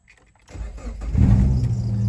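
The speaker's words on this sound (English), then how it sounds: "This car will be very loud because we have an exhaust leak." A used car with an exhaust leak cranks briefly, then its engine catches and settles into a loud, rough idle that grows stronger and stays close.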